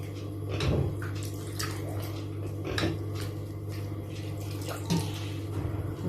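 Water poured into a pineapple mixture in a cooking pot for a pineapple crumble dessert, a steady close trickle and splash with faint clinks of the pan, no talking.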